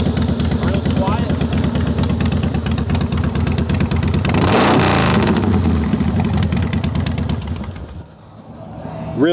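Harley-Davidson Softail Standard FXSTI motorcycle running steadily up close with a loud, rumbling exhaust note, swelling briefly in a rev around the middle before dropping off near the end.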